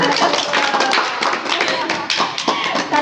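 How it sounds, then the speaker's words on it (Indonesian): Children in a classroom clap their hands together in a brisk, fairly loud burst of applause that stays close and even for the whole stretch. "Oke, tepuk tangan."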